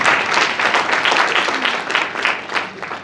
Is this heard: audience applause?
yes